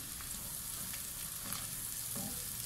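Aloo matar, potatoes and peas, frying in a pan, giving a steady close sizzle with brief stirring scrapes, no voices.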